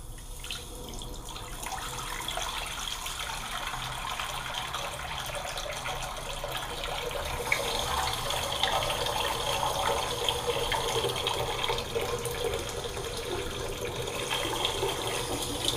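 Water runs steadily from both taps of a newly fitted bathroom sink on a vanity unit into the basin, a continuous close splashing hiss that swells slightly louder partway through, with no talk.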